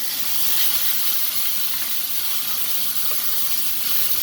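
A tempering of spices fries in a pan for black chana masala, giving a loud, steady hissing sizzle close up from start to finish, with no voices.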